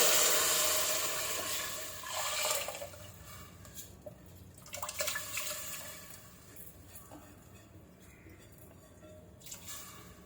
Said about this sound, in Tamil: தண்ணியோட சேர்த்து ஊற்றியாச்சு.